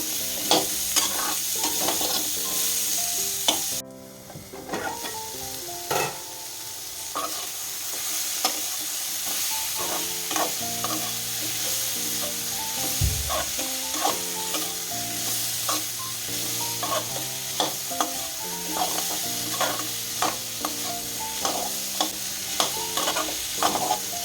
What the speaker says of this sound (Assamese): এতিয়া এইখিনি ভালদৰে লৰাই লৈ ভাজি থাকিম